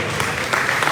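Audience applause for three participants at the close of a lecture's question session, a brief burst of steady clapping from a crowd filling the whole moment.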